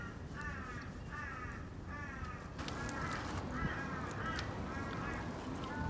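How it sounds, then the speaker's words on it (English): Several crows caw in repeated bursts of three or four harsh calls, moderately distant and spaced a second or so apart over a steady low outdoor rumble. "Will you get the crows for me, Freddy Bear?"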